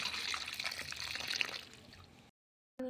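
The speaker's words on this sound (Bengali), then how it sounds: "তো জল দিয়ে দিচ্ছি, এটা সিদ্ধ করে নেব।" Water streams into a pot to boil eggs for an egg curry, a steady close splashing fill that stops abruptly, followed by a brief pause and a moment of speech.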